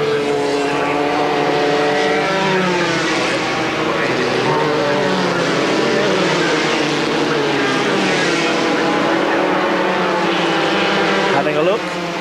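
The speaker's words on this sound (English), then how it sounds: "Protégé of Gerhard Berger, the Austrian Karl Wendlinger, slipstreaming behind Kaufmann" Formula 3 race cars at Hockenheim in a 1989 German F3 Championship round roar continuously as they slipstream in a duel, loud whining engine notes rising and falling under a commentator's voice.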